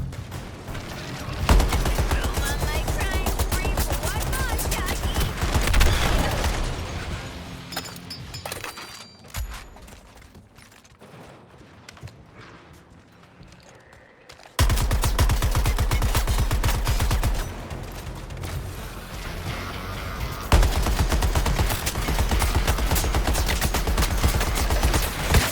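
Heavy sustained gunfire in the Suicide Squad: Kill the Justice League video game, loud bursts filling most of the stretch, easing into a quieter lull midway before dense firing resumes with no talk over it.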